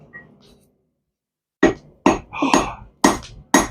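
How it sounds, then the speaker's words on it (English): A series of sharp metallic hammer strikes on hot bronze, five blows at uneven intervals with a ringing clink after a quiet lead-in. "Let's just hammer on it."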